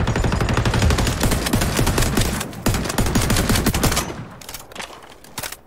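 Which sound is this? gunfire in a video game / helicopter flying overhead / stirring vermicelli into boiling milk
gunfire in a video game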